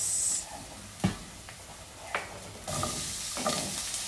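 Garlic and onions sauté in a pan for kaldereta, a steady sizzle broken by a few sharp scrapes of a spoon stirring against the metal, growing denser and louder toward the end, with no voices.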